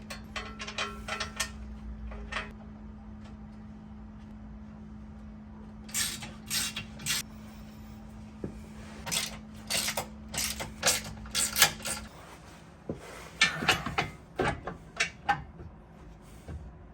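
A hand ratchet tightens skid plate bolts on a Jeep JK. Bursts of quick metallic clicking come close and clear in several runs, separated by pauses, over a faint steady hum.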